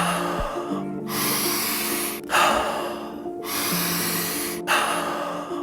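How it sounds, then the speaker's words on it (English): A person does alkaline breathing, taking powerful, forceful inhales through the nose and letting out passive sighing exhales through the mouth, close and loud, in a steady repeating cycle of about four breaths. "which is a powerful inhale through the nose and a passive sigh of relief out the mouth"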